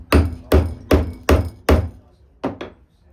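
Iron hobnails hammered into a leather boot sole through holes started with an awl: five evenly spaced, sharp close knocks, then a pause and two softer, quicker taps.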